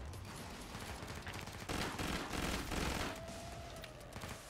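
Sustained gunfire from the Killing Floor 2 co-op shooter forms a dense, noisy wash of rapid shots, fairly faint overall and swelling briefly in the middle.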